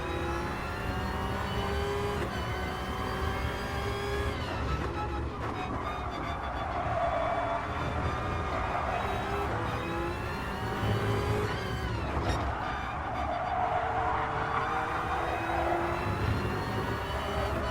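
A Group 1 race car's engine heard on board down the back straight at the Red Bull Ring in Gran Turismo Sport, a steady close drone with pitch rising through gear changes and no voices.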